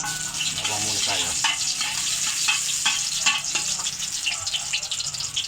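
Garlic sizzling and frying in oil in a pan, a steady close hiss with stirring scrapes throughout, no talk.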